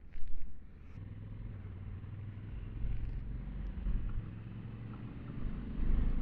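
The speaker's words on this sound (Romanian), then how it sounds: "motocicleta intră într-o rezonanță ciudată și vibrează un pic" A Honda Africa Twin motorcycle engine drones steadily at speed, its low rumble mixed with wind buffeting the microphone, swelling slightly now and then as the bike resonates and vibrates.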